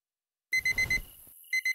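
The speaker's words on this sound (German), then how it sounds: "Und gleich geht der Wecker los." An alarm clock in the Zompiercer video game starts ringing after a brief silence: four rapid electronic beeps, a short pause, then two more, bright and close.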